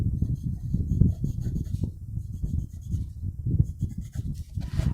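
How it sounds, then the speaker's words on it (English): Soft, close scratching of a ball pen dragged across ink-distressed paper in a small journal, continuous short strokes with a gritty low rasp and no talking. "It's not that easy at all to draw with a ball pen."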